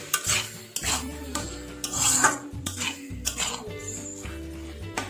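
Metal utensil scraping and clattering in a pan, repeated stirring strokes over a steady sizzle of frying taro, close and fairly loud.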